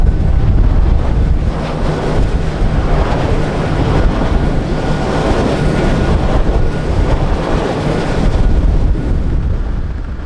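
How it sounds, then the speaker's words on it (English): Strong wind gusts roar steadily near wind turbines in the Costa Rican highlands, a loud continuous buffeting rush across the microphone with no voices. "We have a lot of wind here"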